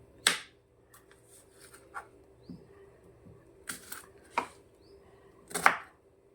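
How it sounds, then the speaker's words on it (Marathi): A few sharp knife chops through a roasted onion on a board, spaced irregularly with quiet pauses between, close and crisp, no voices. "मस्त भाजलेला आहे कांदा आता कट करते"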